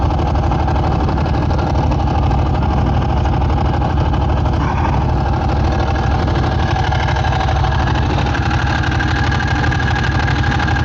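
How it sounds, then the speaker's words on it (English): A Ducati 900SS motorcycle engine idles a little fast, a loud, steady, close-up rumble with a rapid even beat that holds without a break and no voices over it. "Probably bump this idle down a little bit. He's idling a little fast."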